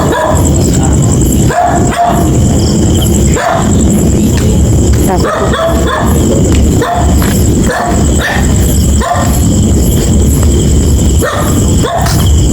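A dog in an abandoned subdivision barks repeatedly at close range, sharp loud yaps at irregular intervals over a constant background hum, with some squealing whines mixed in.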